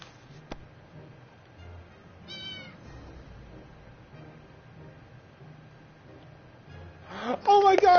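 Angry house cat in the 60 Seconds video game, a brief high meow early on, then loud harsh yowling and screeching bursts close up at the end, over quiet background noise.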